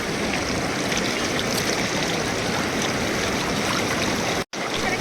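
Cold mountain stream rushing beside a waterfall on the Rimbi river near Pelling, a steady close broadband wash of flowing water with no voices, holding constant throughout apart from one momentary dropout near the end.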